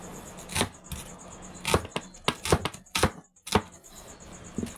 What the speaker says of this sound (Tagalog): yung proper ng pag ng slice natin ng sibuyas